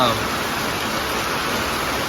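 Steady, dense hiss of heavy rain fills the whole moment, even and unbroken, with a brief voice at the very start.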